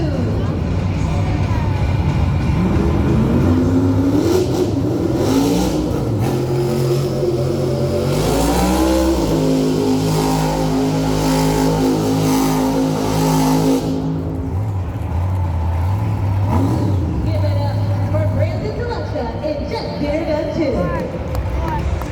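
Megalodon 2 monster truck roars and revs hard during a Monster Jam donut competition at UBS Arena, its engine pitch climbing and falling in long sweeps over crowd noise and an announcer's voice.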